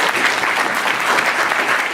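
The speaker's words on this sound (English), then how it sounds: "Let's give him a round of applause." A dense, even round of audience applause, loud and sustained with no pauses or voices standing out.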